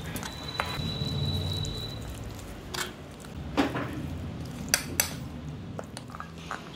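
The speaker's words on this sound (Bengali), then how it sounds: "আচ্ছা এবার সব একসাথে মিক্স হবে" Ash gourd fritter filling mixed with sugar, mustard oil and green chilli paste in a bowl, scattered close clinks and scrapes of a utensil against the dish over a soft background hum, with a brief murmur from a person.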